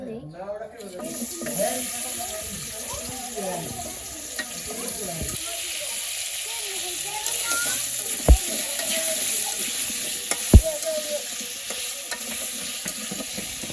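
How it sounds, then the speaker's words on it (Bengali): Potatoes coated in salt and turmeric sizzle steadily in oil under scraping and stirring sounds in a pan, with a couple of sharp metallic knocks and a faint voice at the start. "আলু ভাজা হয়ে গেছে, আলু ভাজা নামিয়ে নিচ্ছি।"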